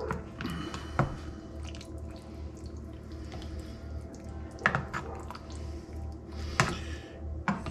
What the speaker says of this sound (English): Stir this up a bit.